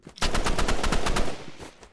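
Rapid automatic gunfire in the Roblox game Rivals: a loud, fast string of shots for about a second, then a short trailing burst, with no talk.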